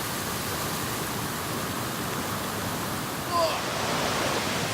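A swollen, fast-flowing stream roars as a dense, constant rush of water. A brief exclamation from a voice rises over the flow.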